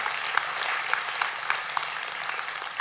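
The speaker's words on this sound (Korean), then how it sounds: "우리 축하의 박수 한번 해주실까요?" A church congregation claps in congratulation during a Sunday worship service, a short, dense burst of applause with a few sharper claps standing out, steady and close.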